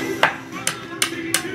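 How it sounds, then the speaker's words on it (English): A wooden mallet strikes the pegs of a wooden toy four times at a steady, unhurried pace, each sharp knock standing out clearly over a quiet background. "Does a good job hammering down all the little pegs"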